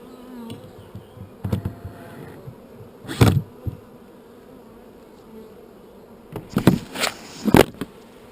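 Agitated bees buzz around an open Layens hive, a steady low drone with several louder passes close to the microphone, some sharp bursts as individual bees fly past.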